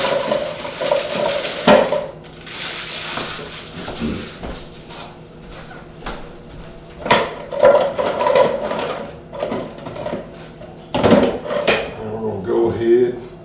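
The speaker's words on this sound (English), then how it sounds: "we're going to put our graham crackers in the food processor" A food processor grinding graham crackers into crumbs for a cheesecake crust, a loud motor whir that comes in pulsed bursts with rattling and clattering, and brief gaps between the pulses.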